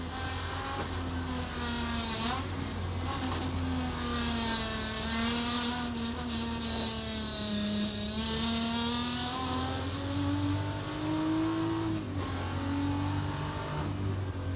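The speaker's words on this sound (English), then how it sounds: "Big V8 slips by across the top." A 1984 Holden VK Commodore V8 race car passes at speed on the Bathurst circuit, its loud engine note holding and bending in pitch as it sweeps by, with a broad roar throughout and no voices.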